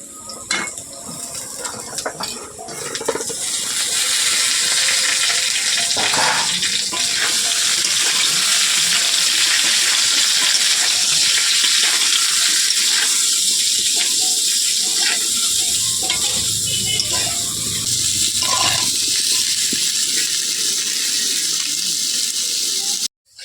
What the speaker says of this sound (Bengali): সবজিগুলো হালকা দাগ লাগিয়ে নিয়েছি এবার দেবো ডাঁটা